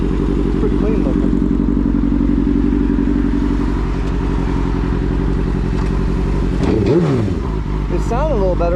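A Suzuki GSX-R 750 sport motorcycle idling while still cold, a loud, close, steady engine rumble with a brief rev near the end, a voice speaking over it.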